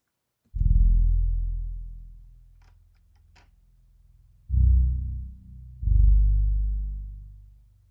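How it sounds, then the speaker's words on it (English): A deep synth bass patch called Future Feels Brass plays solo in a beat-production session. It lands as three loud, booming sustained notes that each decay slowly, with no other instruments or voices. "bass is called the Future Feels Brass"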